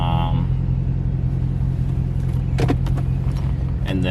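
Dodge Charger 392 with a mid muffler delete idling with a steady deep exhaust rumble, broken by a cluster of sharp crackling pops and burbles near the end.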